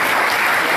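Sustained audience applause at a lecture on money laundering investigation techniques, loud and dense clapping that fills the whole moment without any voices.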